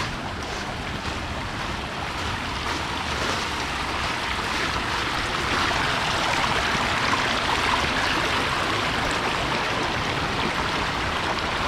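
Rushing mountain stream water on a volcano trek at Mt Pinatubo, a dense, steady broadband roar close by and loud throughout, as someone wades and walks through the flowing current.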